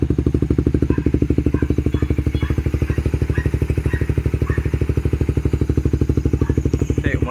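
A Suzuki Raider FI motorcycle engine runs steadily, left on to recharge a weak battery after the key was left on, giving a close, even, rapid pulsing idle with light mechanical clatter throughout.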